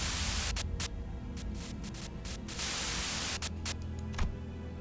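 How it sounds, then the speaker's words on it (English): Radio static from the Limbus Company video game, a dense hiss of white noise that runs steadily through the whole stretch with brief dropouts and flickers, loud and alone with no voices. "A sudden buzz of white noise breaks through the truck's silence."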